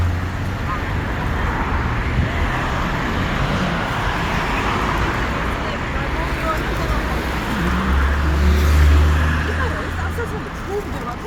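A car driving along a road gives a steady, loud broadband rumble with low engine drone, swelling slightly near the end, with muffled voices under it.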